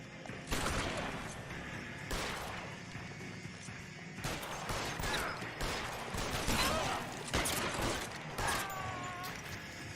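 Gunfire during a chase in the video game L.A. Noire, several sharp shots and crashing impacts scattered across a tense noisy scene, with clanking mechanical sounds and brief voices between.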